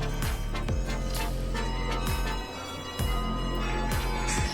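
Church bells in Occitanie, France, ring continuously, several loud overlapping strikes with long resonant tails, pealing steadily throughout.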